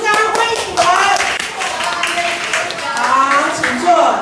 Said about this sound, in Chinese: 鼓掌欢迎你们